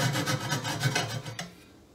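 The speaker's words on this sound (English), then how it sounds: "then we just cut off the bolts" Bolts on an aluminium fishing seat box frame being cut off with a hand saw, a steady rasping back-and-forth of several strokes that stops partway through.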